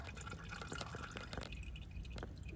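Gearbox oil dripping from a DSG DQ200 seven-speed mechatronics unit during an oil change, a quiet, close patter of irregular small drips and trickles over a soft background.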